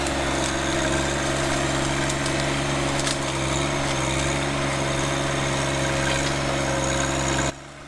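Steady engine drone of a subcompact tractor running outdoors in a backyard during yard cleanup, a constant loud low hum with higher whine, continuous and close, cutting off abruptly near the end.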